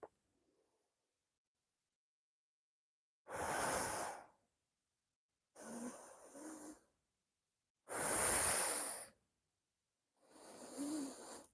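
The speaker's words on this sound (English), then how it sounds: "Take a breath in, take a breath out." Four slow, deep breaths during a standing qigong balancing exercise, each long airy inhale or exhale about a second or so, separated by quiet pauses, close and clear with no talking.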